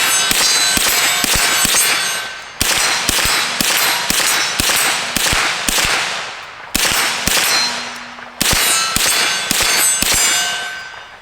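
Rapid rifle or carbine shots from a Smith & Wesson Response pistol-caliber carbine, loud and close, fired in quick strings with brief pauses between groups, each crack followed by a faint metallic ping from steel targets downrange.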